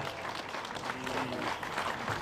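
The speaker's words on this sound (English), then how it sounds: "You are allowed to, all of you are allowed to clap" Audience applause for the winner of a university kart race at the British Universities Kart Championship, a steady mid-level patter of many hands clapping together with a little crowd murmur underneath.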